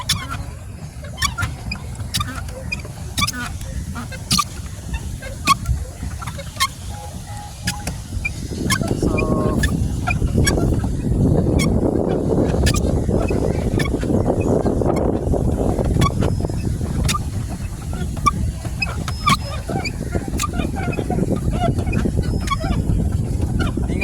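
Ducks honk on the lake at Viharamahadevi Park in Colombo during a boat ride, with scattered calls over steady wind rumble and water noise that swells midway.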